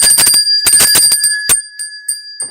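A bicycle-style bell is rung repeatedly on a weather quiz show, a quick cluster of bright rings, then a pause and more scattered single dings that fade toward the end.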